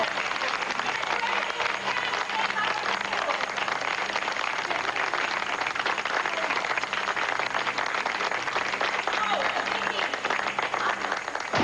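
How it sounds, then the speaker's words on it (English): Friends and classmates at a gathering for Vicki, in a 1988 One Life To Live television scene, give a steady round of applause, heard as soft, continuous clapping from a modest crowd. "let's give Vicki a warm round of applause"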